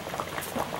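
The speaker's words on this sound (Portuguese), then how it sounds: "deixa aí cozinhando e quando tiver bem reduzido vai mexendo continuamente." Fig sweet simmering in a pot, a thick mixture reducing with steady bubbling and soft popping, close and continuous, no talk.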